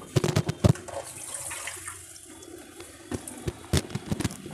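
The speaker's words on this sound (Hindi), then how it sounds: "और इतना ही मैंने इसमें पानी डाल दिया है" Water poured into a pan of sugar to make syrup for coconut barfi, a steady splashing flow with clattering knocks of utensils, fairly close.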